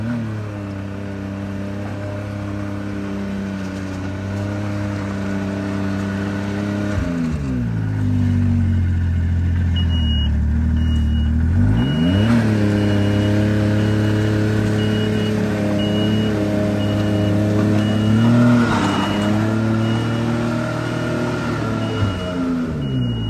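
A 270HP Arctic Cat Riot snowmobile engine idles loudly and is revved outdoors on snow, pitch rising and falling through several throttle pulls with a faint high beeping in the background.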